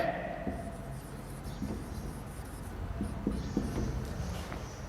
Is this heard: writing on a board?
yes